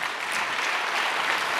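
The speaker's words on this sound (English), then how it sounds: "let's give them a big round of applause" A conference crowd gives finance faculty a big round of applause, a dense, even burst of clapping filling the room with no break throughout.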